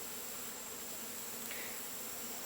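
Honeybees buzz faintly around a hive log being moved by a crane, a soft, continuous insect drone under steady background noise.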